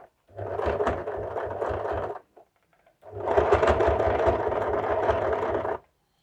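A sewing machine stitches down the pressed-in seam allowance of a half-collar suit in two steady runs, a close mechanical whir with a low rhythmic thump, separated by a short pause.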